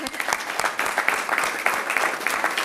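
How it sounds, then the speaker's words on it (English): A room at a Fargo city commission meeting gives a youth group a round of applause: dense, steady clapping close by, filling the whole short stretch. "Should we give a round of applause for this group?"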